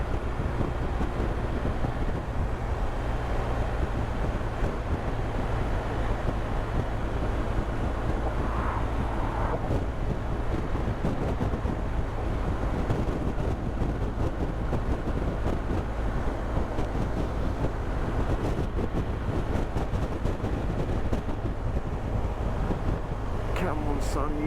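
Steady wind buffeting the microphone during a motorcycle tour in the UK, a constant low roar with engine and road rumble beneath, unbroken for the whole stretch.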